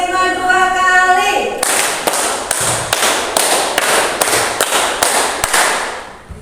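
Group clapping game in an Indonesian agricultural training session: harmonic voices at first, then a run of sharp, evenly spaced claps from many hands in a steady rhythm.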